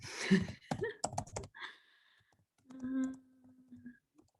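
Computer keyboard being typed on during a research database workshop, a burst of close, quick clicks and key taps in the first second and a half, followed by sparser clicks and faint background tones.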